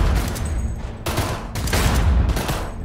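Loud gunfire rings out in Cyberpunk 2077 during a target-shooting challenge, coming in sharp bursts of shots separated by short pauses, close and forceful.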